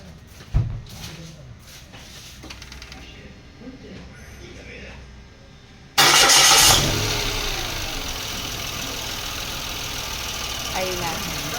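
An engine cranks and catches, then settles into a steady, fairly loud idle with faint voices underneath.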